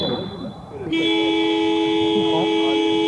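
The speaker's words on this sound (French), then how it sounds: "Il me semblerait que le klaxon de la mi-temps est retenti." A loud, sustained horn blast signals half-time at a handball match, sounding steadily for about two seconds after a brief stretch of crowd and court noise, with people talking faintly underneath.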